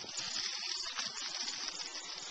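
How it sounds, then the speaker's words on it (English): Hose water runs off roof shingles as a faint, steady hiss and patter with no voices. "just observe how the water runs off the roof."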